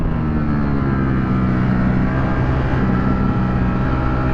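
A 2023 Ducati V4 SP2 motorcycle engine held at wide open throttle on a track, a loud, steady, close roar that stays dense and unbroken, with no talking.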